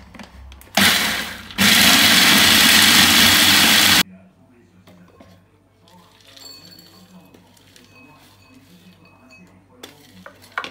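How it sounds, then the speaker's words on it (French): An electric blender grinds fennel for sellou, a loud steady whir that starts abruptly, runs about three seconds and cuts off, followed by quiet kitchen clatter. "vais le mixer avec un peu de fenouil"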